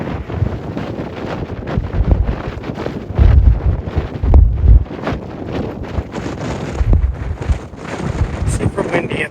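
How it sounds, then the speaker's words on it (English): Strong wind buffets the microphone on an exposed mountain summit near Mount Perry, a continuous roar with heavier gusts swelling around the middle and a speaking voice mixed in. "Super windy up here."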